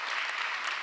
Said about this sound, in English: Give our economic opportunity team a round of applause.